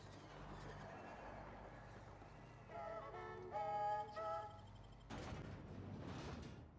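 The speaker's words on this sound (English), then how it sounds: "Hey, is that gunfire?" Faint gunfire in the video game The Outer Worlds rattles in the distance, followed by a muffled burst of noise, over a quiet electronic hum.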